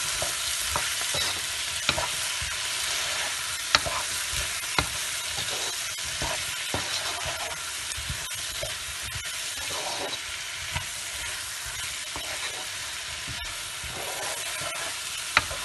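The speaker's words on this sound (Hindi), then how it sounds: "बस हम इसकी भुनाई शुरू करेंगे।" Chopped zucchini and tomato frying in a pan, a steady loud sizzle with repeated scraping clicks as the vegetables are stirred, close up and without talk.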